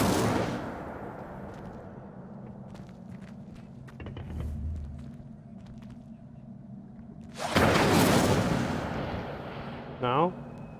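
A fire spell cast in Hogwarts Legacy bursts out as a loud, sudden whooshing blast, followed by a shorter crackling flare, with other game effects and faint ambience around it.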